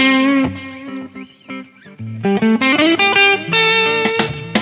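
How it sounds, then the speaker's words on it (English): Electric guitar played through a TONEX Plug amp modeler: a few fairly clean sustained notes, then a louder, crunchier stretch of chords and riffs once the built-in boost kicks in, close and dry. "because I can just hit it right there and then I get a little crunchy sound."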